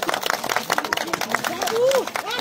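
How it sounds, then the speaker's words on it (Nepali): A group claps along in quick bursts while someone speaks and a crowd murmurs nearby, with the clapping scattered and moderately loud under the talk. "ताली पड्काइदिनु न सबैजनाले"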